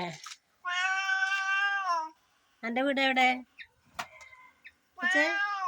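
A cat gives several loud, drawn-out meows close by, one after another with short pauses. A person speaks briefly between the calls.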